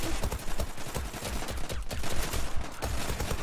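Rapid Glock-18 pistol gunfire in the shooter game Zula during a pistol match, dense fast bursts of loud close shots that run almost without pause.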